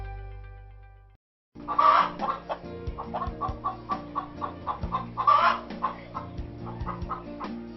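Chickens clucking on a small village poultry farm raised by women at home, a busy run of close, repeated clucks and calls with no talking, following a brief low hum at the start.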